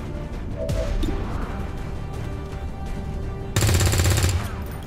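Weapon gunfire in the video game XCOM Long War 2, loud and close, a rough crackle building into a dense, harsh burst of rapid shots toward the end.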